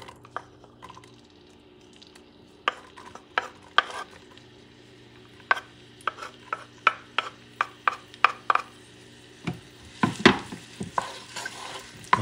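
Onions sautéing in extra virgin olive oil in a pot over medium-high heat, with a low steady sizzle beneath frequent sharp clicks and scrapes of stirring, busier toward the end.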